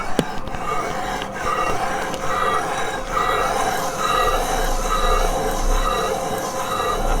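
A metal part of an offset crank engine with a steel crank rubs against its seat. The result is a continuous, fairly loud metallic grinding squeal with faint periodic scrapes and no talking.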